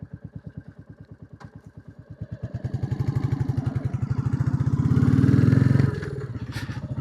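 A Royal Enfield Classic 350 single-cylinder motorcycle thumps steadily while riding along an old road, its pulsing beat rising louder and deeper as it accelerates, then easing off slightly near the end.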